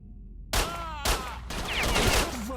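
Gunfire in S.T.A.L.K.E.R. Shadow of Chernobyl: three sharp, loud shots roughly half a second apart, each with a ringing tail, ending in a denser burst of firing.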